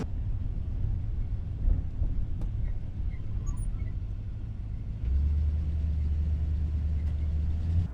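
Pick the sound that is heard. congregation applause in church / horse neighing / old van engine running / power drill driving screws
old van engine running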